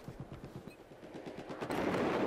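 SKS rifle fire in Battlefield 4, a quick even run of sharp shots about a dozen strong, followed by a louder wash of rumbling battlefield noise.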